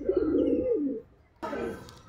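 A pigeon coos in a low, throaty run at close range while being handled, followed by a short pause and then a burst of rustling and further cooing.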